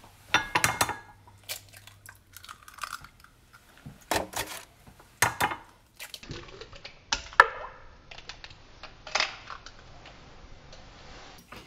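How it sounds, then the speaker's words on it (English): Two eggs are cracked and beaten in a bowl for an omelet, heard as a few sharp taps and then rapid, irregular clicks of a utensil against the bowl, close and fairly quiet, with no talking. "I'm gonna break 2 eggs, get them in here, get them beat real good"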